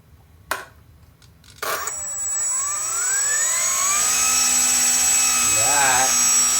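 A Hobbyking P-51 RC model plane's electric motor spins up its propeller, rising into a steady, loud whine with shifting harmonic tones that holds to the end, after a couple of sharp clicks at the start.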